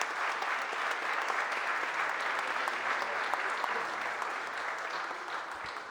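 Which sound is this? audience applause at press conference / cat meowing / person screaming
audience applause at press conference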